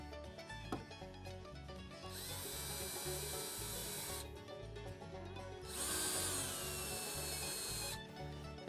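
A power tool cuts a chamfer along a wooden workpiece during a CNC router build, two sustained high whining passes a few seconds each, loud and close over a steady background hum.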